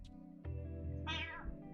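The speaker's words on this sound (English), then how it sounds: "Oh, my cats are actually fighting." Two cats fighting indoors, one letting out a sharp, loud yowling meow over a steady low background hum, with a thump as the scuffle starts.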